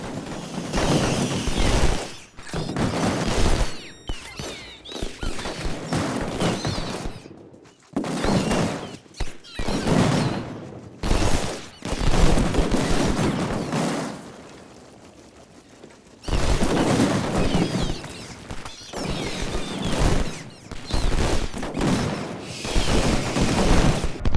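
Rapid, dense volleys of musket fire and cannon booms in the video game Ultimate General: Civil War at the Battle of Shiloh, loud and nearly continuous with short lulls, sounding sped-up and thin like popping.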